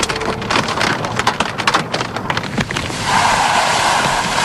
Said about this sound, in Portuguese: E a chuva de gelo que pintou o telhado de branco dispara contra o para-brisa do carro.